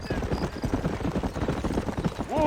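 Horses' hooves clip-clop in a steady trotting rhythm in the Western video game Red Dead Redemption, close and continuous beneath dense game sound, with a voice speaking briefly over them.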